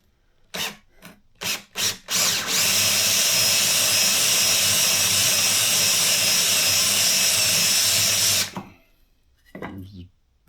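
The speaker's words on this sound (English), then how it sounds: "Let's drill a hole through here." A power drill bores a hole through a piece of wood: a few short bursts of trigger pulses, then a loud, steady whine lasting about six seconds before it cuts off, with faint talk around it.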